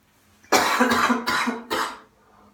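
Four harsh coughs in quick succession, close and fairly loud, with no talking around them.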